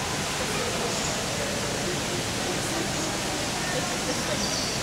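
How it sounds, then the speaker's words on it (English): A forest waterfall roars as a constant broadband rush of falling water, loud and unbroken throughout with no distinct voices standing out above it. "Let's go see the waterfall."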